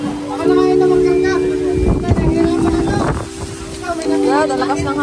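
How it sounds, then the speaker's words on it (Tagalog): Strong wind buffets the microphone in heavy gusts, with a low engine-like hum and voices talking over it throughout. "lakas ng hangin guys."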